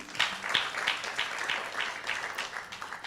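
An audience at a Mother's Day 2016 women's church broadcast applauds an invited guest evangelist, with sustained, moderately loud clapping throughout.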